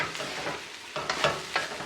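Ham fried rice made from leftovers is stirred and tossed in a hot pan, giving close sizzling and frying with sharp scraping bursts from the spatula as it is turned.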